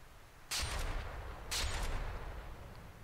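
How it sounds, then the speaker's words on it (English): Two cram cannons in the naval combat game From the Depths fire in succession, each a loud booming blast with a ringing, crackling tail, about a second apart over a low rumbling background. "So now we have 2 cram cannons."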